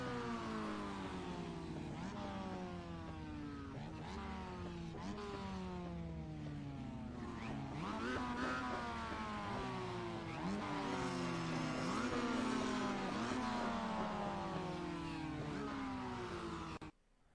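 A Kia Optima race car engine revs loud and close, rising and falling through repeated sharp throttle blips that build to a sustained high scream before cutting off abruptly at the end.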